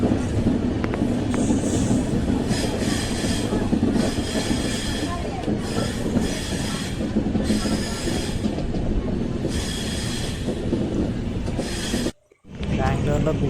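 The Brindavan Express runs on rails between KSR Bengaluru and Kuppam, a loud, continuous rumble and rattle with squealing wheels heard from close by, cutting out briefly near the end.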